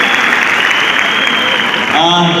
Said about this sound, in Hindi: एक बार जोरदार ताली हो जाए दोस्तों इन लोगों के लिए